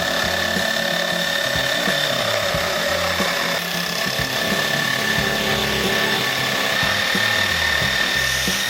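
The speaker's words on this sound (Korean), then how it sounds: "그 다음에 손잡이 부분도 잘라 주었습니다." A power tool saws through the handle section of a homemade table tennis paddle, a steady, loud, dense cutting whine running for the full stretch with no voices.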